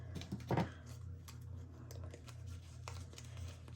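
Scissors cut the edges of a paper card, making close, quiet, crisp snips and rustles that cluster near the start and then turn into sparse light ticks.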